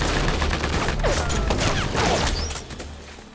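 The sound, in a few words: gunfire in a battle scene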